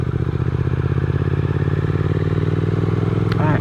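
A 2021 Triumph Speed Twin motorcycle engine ticks over at low revs on a slow ride, its steady loud thrumming pulse running evenly throughout with a brief faint chirp near the end.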